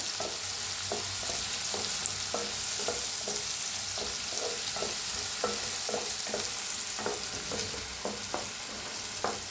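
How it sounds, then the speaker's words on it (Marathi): Chopped onion fries with asafoetida and curry leaves in a new kadhai, giving a continuous close sizzle broken by regular scraping stirs of a spoon against the pan. "कापून घेतलेला कांदा, छान असा भाजून घ्यायचा सोनेरी कलर यूज करा."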